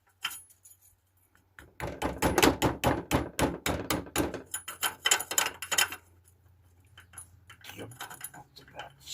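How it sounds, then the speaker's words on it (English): Sharp metallic hammer blows ring out on a gearbox part from a Peugeot 404 BA7 four-speed gearbox during a strip-down. A rapid run of close, loud strikes is followed by a pause and then further scattered taps. "Maybe I must hammer that out there."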